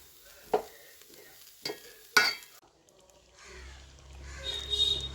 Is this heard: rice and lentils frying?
yes